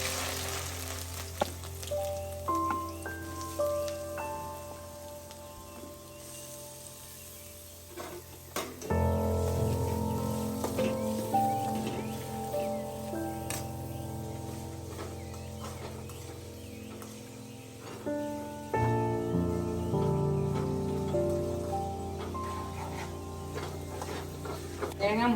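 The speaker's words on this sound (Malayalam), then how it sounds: "നമ്മൾ ഇഞ്ചി വറക്കാനിടുക." Ginger frying in hot coconut oil for an Onam ginger curry gives a steady, soft sizzle that swells louder partway through, running under a person talking.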